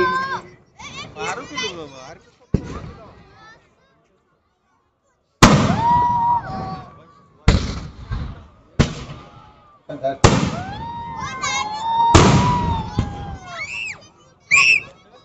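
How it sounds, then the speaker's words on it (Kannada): Fireworks burst at the closing ceremony of a district police annual games, loud separate booms and pops close by, coming in irregular bursts with short gaps, while spectators shout and cheer between them. "ಬಣ್ಣದ ಚಿತ್ತಾರವನ್ನ ಬಿಡಿಸ್ತವೆ ಪಟಾಕಿಗಳು ಬಾನಂಗಳಲ್ಲಿ."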